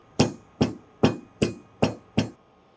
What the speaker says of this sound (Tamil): இந்த ஏலக்காயை வந்து லைட்டாக நம்ம தட்டிட்டு சேர்க்குறது நல்லது